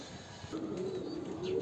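Domestic pigeons on a rooftop give a low, soft coo over a faint background hum, one brief call lasting under two seconds.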